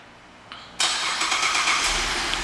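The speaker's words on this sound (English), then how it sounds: "Car starts right up." A 2011 Buick Enclave CXL engine turns over by remote start and catches after a faint click, then settles into a steady idle close by.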